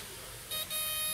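A buzzer beeps while a fuse on a Chevy Silverado is being tested, first as a short tone and then as a longer, sustained tone, both at moderate volume.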